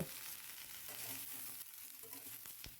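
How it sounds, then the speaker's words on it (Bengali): Onion flower stalks and chopped tomato with green chilli fry in a pan, a faint steady sizzle with soft scraping as a spatula turns them, heard alone. "এইভাবে মিনিট দুই তিনেক নাড়াচাড়া করে ভাজতে থাকবো"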